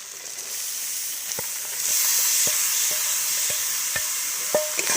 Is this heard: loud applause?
no